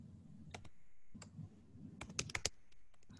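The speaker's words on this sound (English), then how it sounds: "I'm typing them right now." Keys clicking on a computer keyboard in bursts of separate taps, with a quick flurry of typing near the end, close and fairly quiet.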